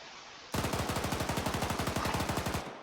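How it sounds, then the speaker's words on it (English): PK machine gun in the video game Arma 3 firing one sustained automatic burst of about two seconds, a rapid, even stream of loud shots close by with no talking. "This one has a PK machine gun and AGS grenade launchers."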